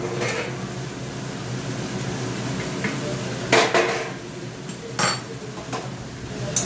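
Lid lifted off a cooking pot of simmering vegetables, heard as a couple of sharp metallic clanks over a steady hiss of cooking, with one clatter in the middle followed by another a moment later.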